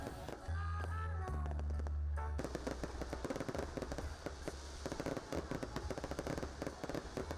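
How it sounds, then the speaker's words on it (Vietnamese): A low-altitude fireworks display on New Year's Eve in Dong Trieu, Vietnam, with deep booms and then a dense, continuous crackle of bursts and pops, loud and steady with no talk. "được chiêm ngưỡng màn bắn pháo hoa tầm thấp lung linh, đẹp mắt"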